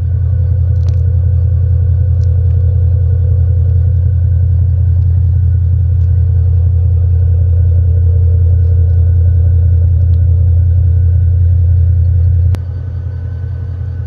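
A Mercedes CL550 with an aftermarket exhaust idling, giving a loud, deep, steady rumble with a constant low drone close to the pipes, and a sudden slight drop in level near the end.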